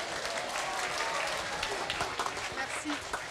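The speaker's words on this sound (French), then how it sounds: "Un tonnerre d'applaudissements" Attendees at a school event honoring middle-school class delegates in Évreux applaud a presenter, a sustained, even patter of clapping from a seated crowd in a hall, moderately loud throughout.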